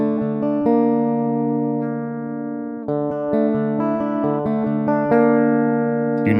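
Guitar plugged straight into a line input rings out picked notes and sustained chords, clean and close, with a somewhat dull, rolled-off top end.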